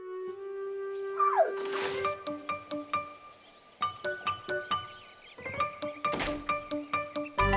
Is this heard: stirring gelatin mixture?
no